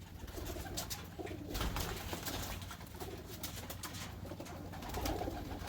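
Pigeons coo steadily inside a loft of racing birds, a continuous layered murmur of many birds close by with some rustling and shuffling throughout.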